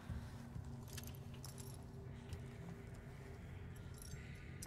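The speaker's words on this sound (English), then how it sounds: "I hear someone's house keys." A ring of house keys jangles softly in a Resident Evil 4 Remake game scene, with a steady low rumble underneath and scattered bright metallic chinks through the short stretch.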